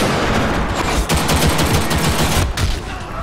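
Rapid gunfire in a Ghost in the Shell video game, a dense, loud, continuous barrage of shots with sharper bursts near the middle and end, with no voices over it.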